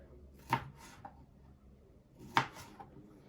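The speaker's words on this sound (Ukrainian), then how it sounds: "тепер беремо, і нарізаємо помидорчики" A kitchen knife slices through tomatoes on a board for homemade zucchini caviar, two distinct crisp chops with a softer tap between, close and fairly quiet with no speech.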